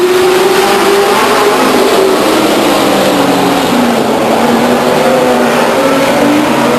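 Stock cars racing on the flat track at Stockton 99 Speedway in 2000 roar loudly and continuously up close, a dense wall of engine noise with no voices over it.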